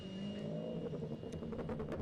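A race car pulls out of the pit lane at the Snetterton circuit with a low, rough engine note that builds into revving. Sharp bursts from other cars cut through, and the sound is mid-distance with no talking.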